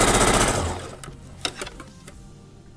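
A sewing machine stitches a pants pocket closed with blue thread, whirring fast and loud for a short burst, then trailing off into a few light clicks and handling sounds.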